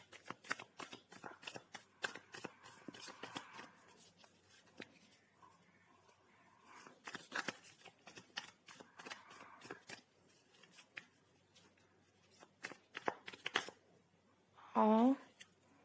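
Tarot cards shuffled by hand in a rapid, crisp riffling patter that runs almost throughout, quiet and close, with a short bright chime near the end.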